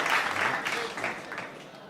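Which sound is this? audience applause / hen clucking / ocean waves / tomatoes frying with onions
audience applause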